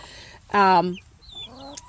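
A hen recovering from a hard molt gives a loud, close, strained cluck-squawk beneath a shaded coop, followed by a few softer chirps and quiet clucks.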